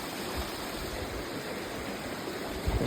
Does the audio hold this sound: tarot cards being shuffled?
no